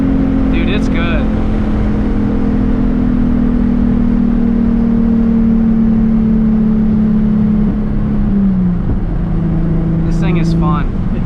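Nissan 350Z HR engine with a Tomei exhaust, a steady loud drone that holds and then drops in pitch as the revs fall, heard from inside the car with faint chirps near the start and end.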